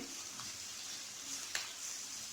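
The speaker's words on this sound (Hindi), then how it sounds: "और प्याज को हल्का सा फ्राई करना है" Onions fry lightly in oil in a pan for a spiced mince and green beans dish, a soft, even sizzle with a couple of faint stirring clicks, quiet and without speech.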